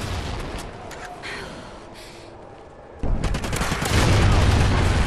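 Video game gunfire bursts in as a loud, dense rapid volley in the second half after quieter, scattered shots and ambient noise earlier.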